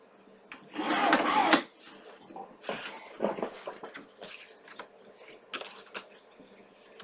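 Scissors or a trimmer cutting through the top piece of an album cover, heard as a loud, brisk cut followed by scattered rubbing and handling noises, close and with no talk.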